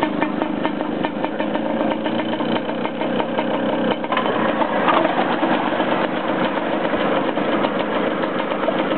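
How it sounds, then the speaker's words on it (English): The outboard engine on a Brightlingsea Osprey boat runs steadily in gear, a continuous close, loud mid-pitched chug with a fast even pulse that holds through the whole stretch and has no talk over it. "can we just see it chugging over in gear?"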